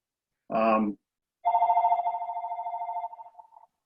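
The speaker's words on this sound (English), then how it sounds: "cell phone's ringing" A cell phone rings during a candidate forum, sounding as a steady electronic tone that holds for about two seconds and then fades after a brief burst of speech.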